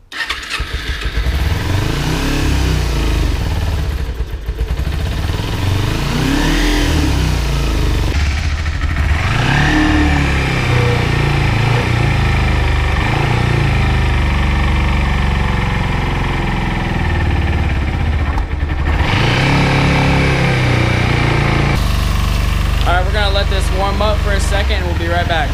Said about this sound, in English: bike's idling a lot better now